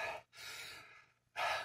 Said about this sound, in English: It gets me out of breath